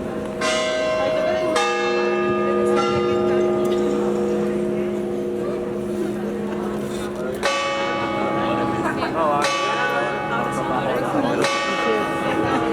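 A large bell rings out in several loud, separate strikes, each with a long, shimmering ringing decay that overlaps the next.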